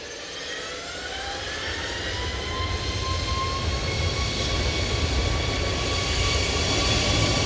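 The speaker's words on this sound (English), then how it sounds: "So, we got a bit of crab angle on this Emirates" Emirates Airbus A330 landing with a crab angle in storm winds at Manchester Airport, a steady, loud jet engine roar with a rising whine and broad wind rumble, no voices.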